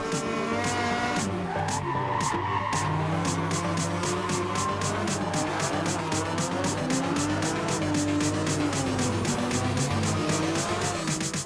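Cars drifting at a jamboree exhibition fill the air with loud, continuous tire squeal and revving engines, rising and wavering pitches layered over a steady roar, with rhythmic pulsing throughout and no clear talk.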